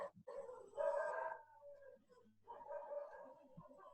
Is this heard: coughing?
no